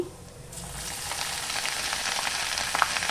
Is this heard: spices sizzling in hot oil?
yes